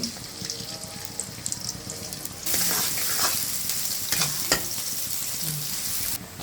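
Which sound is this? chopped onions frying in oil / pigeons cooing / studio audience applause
chopped onions frying in oil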